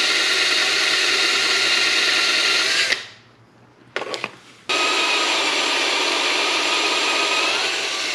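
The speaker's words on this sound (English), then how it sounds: "I'm gonna have to drill it and then tap it." A power drill boring a hole in a car's center console, loud steady whine close up that stops for about two seconds with a couple of brief bursts, then runs again continuously.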